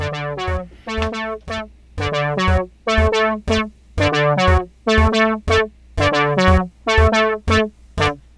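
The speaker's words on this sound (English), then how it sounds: "now what you're hearing are both parts playing autonomous sequences simultaneously" A Roland JX-08 synthesizer plays two parts' sequences at once, layering punchy, bright, plucky repeated notes over a low pulsing bass in a steady, driving pattern.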